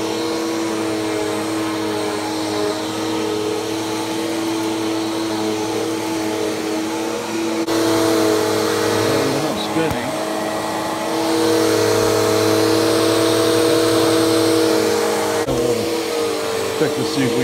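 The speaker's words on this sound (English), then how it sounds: "We've vacuumed up our mess." A Bissell upright vacuum cleaner running steadily after a brush roller repair, a loud sustained motor drone with whining tones that shift pitch as it moves, briefly dipping and surging.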